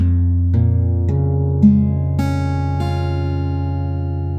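Open strings of an acoustic guitar in an altered tuning are plucked one at a time from low to high, each ringing on and overlapping into a full, resonant chord.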